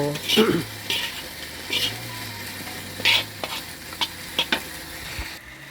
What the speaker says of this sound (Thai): กระเทียมคั่วโตอันนี้คั่วหอมกระเทียมโต